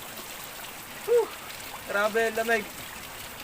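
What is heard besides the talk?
river water flowing strongly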